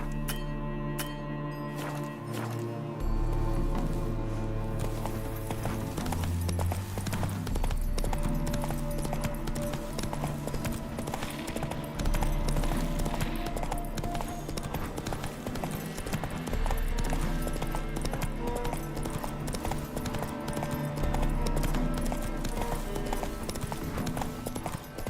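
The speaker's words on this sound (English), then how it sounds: "Not so fast, Roach" Horse Roach galloping in The Witcher 3 video game, a steady rapid hoof clip-clop running under loud continuous game music for the whole stretch.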